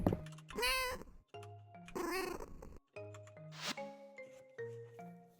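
A pet cat in the farming video game Fields of Mistria meows repeatedly, several clear drawn-out meows spaced across the moment over a tonal game soundtrack, with no talking.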